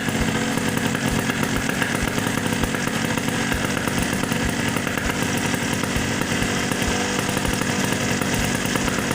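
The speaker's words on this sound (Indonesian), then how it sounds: "Nah, mesin agak RPM-nya agak lebih tinggi lagi" A Yamaha RX King two-stroke motorcycle runs with its idle raised after a carburetor adjustment, a loud, steady, buzzing engine note with rapid popping pulses that carry on for the full length and no voices.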